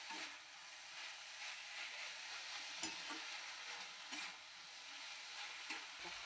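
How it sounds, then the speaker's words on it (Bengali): Quiet stirring of nalte greens with gram-flour fritters in a pan, with soft scraping and a faint sizzle and a few light clinks of the spoon against the pan, close by and without talk. "তারপর একটু নেড়ে চেড়ে নেব।"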